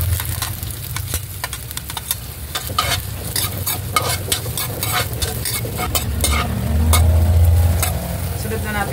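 Chopped ginger sautés in hot oil in a kawali for chicken tinola, a dense crackling sizzle punctuated by rapid, rhythmic spatula strokes over a low steady hum that swells near the end.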